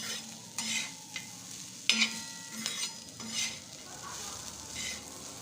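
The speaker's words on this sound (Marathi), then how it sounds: "आपल्याला एक दोन मिनटं अशी मस्त परतून घ्यायची" Onion and green chili sizzle in a hot pan with salt as they are sautéed for vatanyachi chatni, a spatula scraping and stirring in several distinct strokes over a constant frying hiss.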